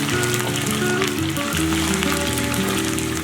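Loud, constant crackling sizzle of chicken deep frying in a pot of hot oil, heard up close without any voices.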